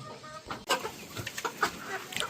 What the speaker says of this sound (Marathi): इतक्या मोठ्या ह्या कोंबड्या झालेल्या आहेत